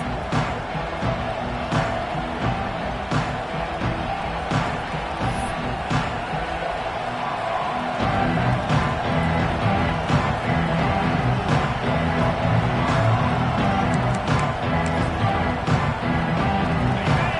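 A stadium crowd roars in a college football video game: a constant wash of cheering with scattered thumps that swells noticeably partway through, steady and fairly loud.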